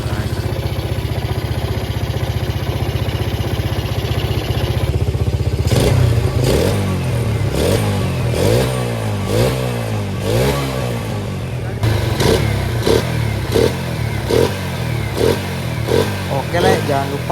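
Repaired motorcycle engine that had been blowing white smoke from the exhaust, idling close by and then revved in repeated pulsing bursts, its loud clattering throb running throughout while a voice talks over parts of it.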